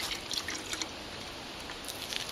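Water trickles from a small pump into a bucket with a soft, continuous splashing and light irregular drips, close by and fairly quiet, with no talking.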